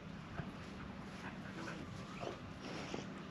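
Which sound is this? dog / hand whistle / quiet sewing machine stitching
dog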